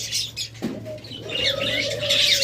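A pair of doves in a cage coos softly among busy chirping from nearby birds, with a short rustle or flap near the start and no voices.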